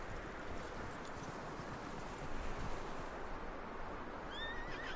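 A horse whinnies in Red Dead Redemption 2 amid steady background noise, with a faint rising squeal near the end.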